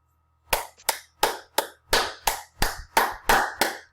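Hands clap about ten times in a steady, evenly spaced rhythm, each clap sharp, loud and close, with brief silences between and no voices.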